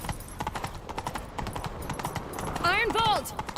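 A horse gallops in The Witcher 3 game, its hooves clopping in a quick rhythm under busy character dialogue, with a short whinny near the end.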